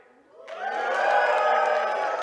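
A crowd at a PAX East 2017 gaming panel bursts into cheers, whoops and applause for Jet Set Radio in a noise vote, swelling after a brief quiet start and staying loud and steady.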